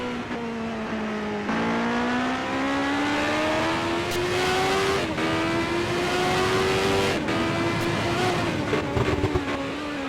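CART Indy race cars at the 1988 Molson Indy Toronto street race, a loud engine whine climbing steadily through the gears with shifts and a second car audible, sustained throughout.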